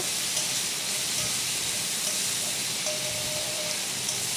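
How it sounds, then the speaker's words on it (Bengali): Ground spice paste for aloo chop fries in hot oil, giving a steady, even, close sizzling hiss that runs without a break and has no voices over it. "এটাও সুন্দর করে লাল লাল করে ভেজে নেব"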